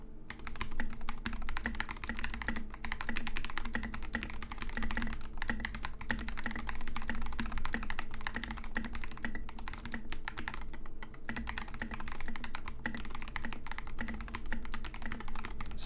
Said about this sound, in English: here's a sound test with lubed Epsilon switches and Drops SA Oblivion keycaps